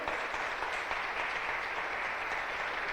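Steady applause from a church congregation, a dense even wash of many hands clapping at close range for the full length, with no speech over it.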